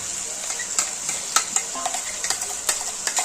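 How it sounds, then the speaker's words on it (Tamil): Masala stirred into a large pot of frying mutton gravy: a constant sizzle broken by repeated scraping stir strokes, close and moderately loud, with no talking. "நம்ம எல்லா மசாலையும் போட்டுடலாம்."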